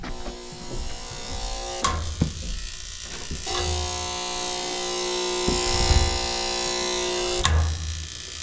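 A gas furnace with a bad gas valve tries to start up, giving a steady electric buzz and hum with brief louder clicks and surges throughout.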